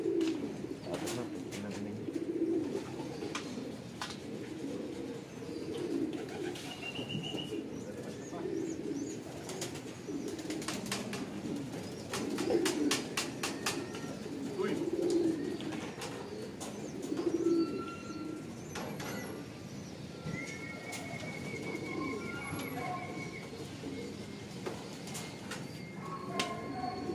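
Racing pigeons coo steadily in a busy loft as they arrive back from a race from Talavera, with many birds, low murmuring coos throughout and scattered clicks and wingbeats.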